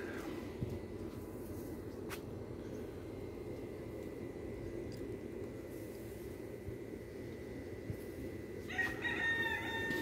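A rooster crows out at the end, one of three kept in a walled yard, after a long stretch of quiet outdoor background with a faint earlier call.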